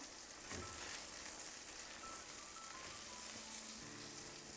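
Eggplant pieces frying in a batch of hot oil, a steady broadband sizzle running continuously at close range with no voices, a faint low hum entering near the end.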